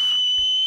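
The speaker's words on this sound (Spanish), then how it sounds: "Silbó para llamar al toro" A steady, high-pitched whistle calling a bull in the cartoon Mecanimales, held for under a second, fairly clear, with a brief low thump partway through.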